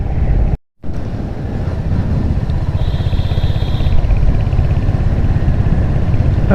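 A motorcycle rides the hill road from Kalimpong to Siliguri via Lava. Its loud, steady engine drone is heavily masked by wind buffeting the microphone, with one brief dropout near the start.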